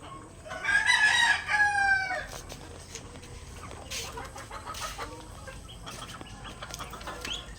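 A rooster crows loudly and close inside a chicken coop, followed by scattered clucks and faint fowl calls from the flock around it.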